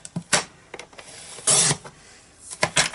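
Scraping, sliding cuts of a paper trimmer blade through card, several short rasping strokes and clicks close by, with one longer slide in the middle.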